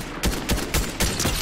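Rapid bursts of gunfire in the video game Fortnite as a player shoots down a tree, sharp cracks in quick irregular clusters, loud and close, with no talk over them.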